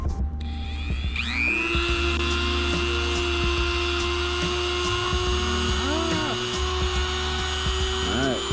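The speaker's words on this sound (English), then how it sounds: "So I'm gonna cut it right underneath these bolts. My first time using a Dremel." A Dremel rotary tool cuts through the rear fender of a Kawasaki KLX230 dual-sport motorcycle with a sustained high-pitched whine that rises and dips as the cut bites. It is loud and close, with a voice talking briefly over it.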